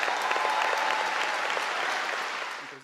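Sustained audience applause after the Pope's remark to Catholic and Lutheran students, a dense, steady wash of many hands clapping at even loudness that tapers slightly toward the end.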